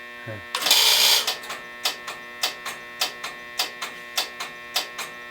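A Strowger telephone exchange starting up: a burst of hissing noise gives way to a steady run of sharp mechanical switching clicks, regularly spaced over a low electrical hum, close and fairly loud.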